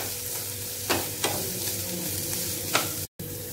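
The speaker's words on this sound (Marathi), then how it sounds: "शिमला मिरची सुद्धा तेलामध्ये थोडी परतून घ्यायची।" Onion and bell pepper sauté in hot oil for a veg frankie, giving a steady sizzle with a few sharp stirring scrapes and clacks close by, and no talk.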